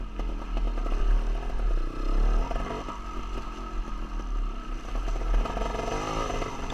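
A dirt bike coasts down a rocky downhill trail in fourth or fifth gear with the clutch pulled in, its engine droning close and steady with wavering pitch over continuous rattling and scraping from the rough ground, with no talking.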